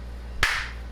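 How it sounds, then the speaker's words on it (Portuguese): A single sharp hand clap rings out close and loud, used as a sync marker, standing alone against a steady low background hum. "Vou bater várias palmas pra confundir ele."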